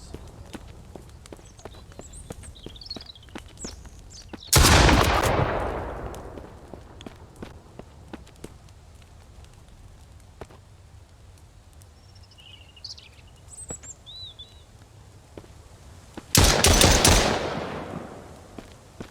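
Gunfire in the survival video game Mist Survival: two loud, sharp shots spaced well apart, each with a long decaying tail, over constant background ticking and game ambience.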